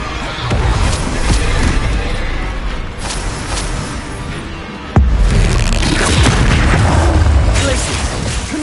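Fire spells explode again and again in Hogwarts Legacy, a steady run of loud booms and bursts over dense game noise, with a sharp blast near the middle and a voice shouting throughout.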